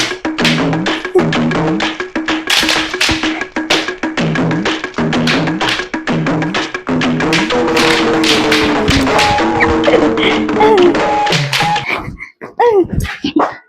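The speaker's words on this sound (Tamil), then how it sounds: "இப்ப இதுல மிதிச்சு பார்ப்போம் இதுல எத்தனை வெடிச்சிருக்கு வெடிக்காம இருக்கு" Firecrackers scattered on the ground popping under footsteps, a dense run of sharp, loud cracks and snaps going on almost continuously, with brief tonal whistles mixed in and a short gap near the end.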